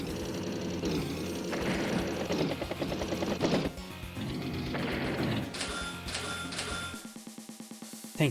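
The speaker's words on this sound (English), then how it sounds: "As the battlecopter hits the infantry unit there." Battlecopter attack on an infantry unit in the Advance Wars video game, heard as continuous busy mechanical and crashing game effects with a rotor-like churn, ending in a brighter, tonal burst of effects near the close, with no talking.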